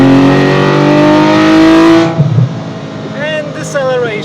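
A Porsche GT3 Cayman with a PDK dual-clutch gearbox roars loud and close at full throttle with a dense harmonic engine note, then abruptly lifts off, dropping to a softer burble and whine as it decelerates.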